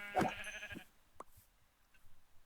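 A sheep bleats once, sharp and close, in the Minecraft video game, followed by a few quieter clicks and soft game sounds.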